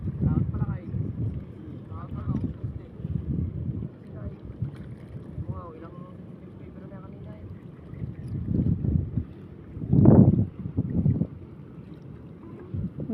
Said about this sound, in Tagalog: Parang pista yung laot, puro bangka.